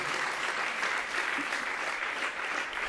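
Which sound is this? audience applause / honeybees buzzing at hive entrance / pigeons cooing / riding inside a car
audience applause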